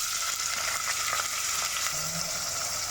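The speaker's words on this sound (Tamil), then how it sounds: "வெங்காயம் சீக்கிரமாக வதக்கிறதுக்காக கல்லுப்பு சேர்த்துக்கிறேன்" Finely chopped onions and green chili sauté in hot oil in a pan, giving a soft, steady sizzle that stays even and fairly quiet from start to finish.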